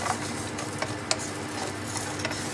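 Cumin seeds and cardamom fry in a pan for sweet mung dal balls, a dense close sizzle with a few light stirring clicks and taps against the pan.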